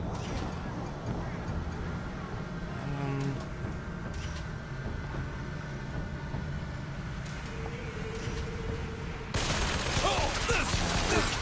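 Automatic turret firing in the video game BioShock Infinite, a sustained burst of gunfire that grows louder and harsher near the end, with a voice talking over much of it.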